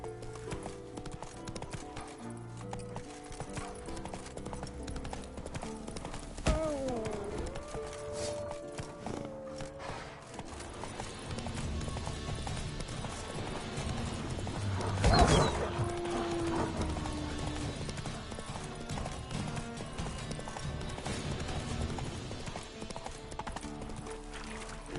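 Roach the horse gallops in The Witcher 3, hooves clip-clopping steadily and fairly close through the whole stretch, with a brief neigh or rider noise partway and game music underneath.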